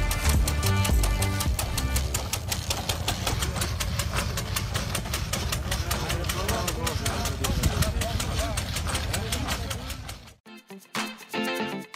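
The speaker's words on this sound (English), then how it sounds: "This is a diesel saw that can easily cut down a thick tree without human intervention." A diesel saw engine runs loudly and steadily with a rhythmic chugging pulse, with voices over it, then cuts off abruptly near the end.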